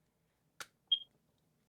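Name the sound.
phone beep in video game The Gray Garden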